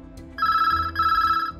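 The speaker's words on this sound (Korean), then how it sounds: "웬일로 아내 최 씨가 회사에 전화를 걸어왔습니다." A telephone rings in two loud bursts of electronic trilling over a low background hum, placed as a call comes in to a husband's workplace.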